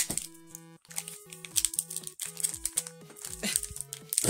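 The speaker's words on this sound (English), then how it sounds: "Hard to open the packs." Pokémon Scarlet & Violet booster packs being torn open and handled: close crinkling foil and sharp paper rips in quick bursts over steady background music.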